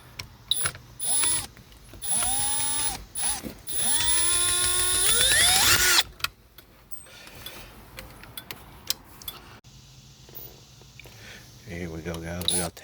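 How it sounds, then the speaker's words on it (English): A small screw is backed out of the turn signal switch on a 1993 Chevy truck with a power driver, whining in several rising, whirring bursts of motor noise, followed by quieter clicks and handling sounds. "Take this little baby screw out."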